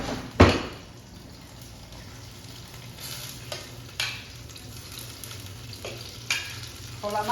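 Calamari fries in olive oil in a pan with a constant close sizzle, opening with a sharp knock and broken by several light clinks of a utensil against the pan. Nobody talks.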